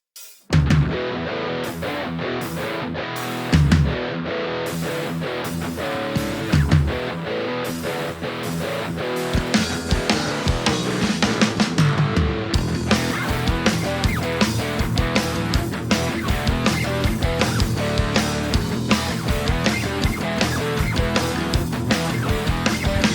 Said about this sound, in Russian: в положении Distortion педаль выдает больше басов также